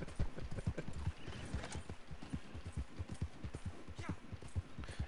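Wild horse hooves in Red Dead Online clip-clop in a steady, fairly close rhythm through the whole stretch, with a faint whinny and some mechanical clicking underneath.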